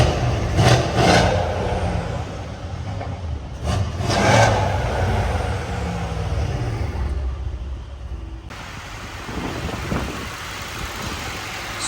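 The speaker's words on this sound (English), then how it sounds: "Let's start it up and let's cross fingers that this works. Give it a quick rev real quick." A car engine starts and revs after a purge valve replacement, a close steady running note with a couple of quick throttle blips early on, then settling to an even idle.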